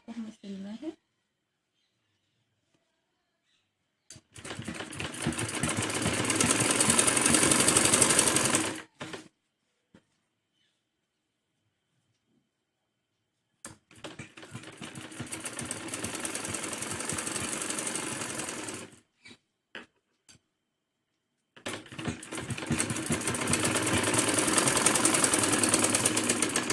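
A sewing machine stitches three layers of salwar fabric together in three long, loud runs of rapid whirring, separated by silent pauses.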